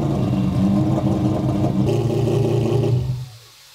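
A billet four-rotor rotary engine in an AWD RX-7 revs loudly and steadily with a rough, buzzing drone, then cuts off abruptly near the end, leaving near silence.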